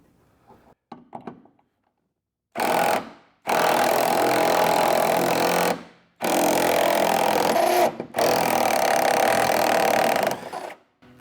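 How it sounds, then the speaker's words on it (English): Steel pipe wrench grinding and ratcheting against a hitch ball on a Cushman Trackster, in three long loud harsh bursts separated by brief pauses, with a few light knocks beforehand. "the pipe wrench, it's contacting such a small amount of surface area on the hitch ball."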